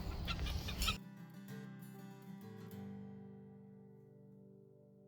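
Chickens cluck inside a hoop coop, a brief dense burst of clucking at the start, then quieter sustained tonal calls fading away.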